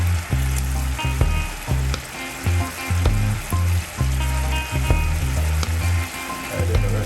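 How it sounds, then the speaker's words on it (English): Onions dropped into a hot frying pan of oil, a loud close sizzle and crackle that keeps going, with small bursts as the pieces settle and are stirred. "So we'll go ahead and add our onions in there."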